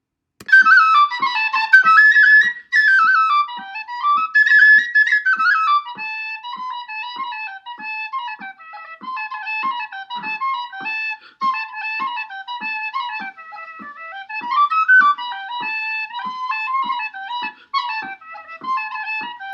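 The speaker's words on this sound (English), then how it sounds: "another traditional instrument you might have known about is called an Irish tin whistle" A lively, bright traditional Irish tin whistle melody with quick trills and runs, played over a steady, soft ticking beat.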